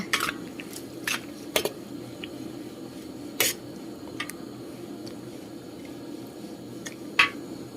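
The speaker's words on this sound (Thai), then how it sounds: "แล้วคนไปคนมาให้ทั่วๆ" A spoon works through a Thai jungle curry pot holding long beans, wing beans and baby corn, giving scattered sharp metallic taps and scrapes at close range over a soft, steady background hiss.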